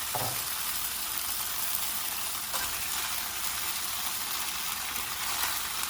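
Peppers and onions frying in a pan, a steady close hiss of sizzling oil with a couple of faint clicks, continuous and even throughout.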